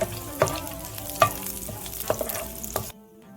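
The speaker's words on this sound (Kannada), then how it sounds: "ಹಸಿ ಮೆಣಸನ್ನ ಹಾಗೆ ಸ್ವಲ್ಪ ಕರಿಬೇವು ಸೊಪ್ಪನ್ನು ಹಾಕ್ಕೊಂಡು ಮೂವತ್ತು ಸೆಕೆಂಡ್ ಅಷ್ಟು ಫ್ರೈ ಮಾಡ್ಕೊಳ್ಳೋಣ" Green chillies and curry leaves crackle and spit in hot oil as a crab sukka masala begins, a steady sizzle broken by sharp pops and stirring clicks. It ends abruptly in near silence.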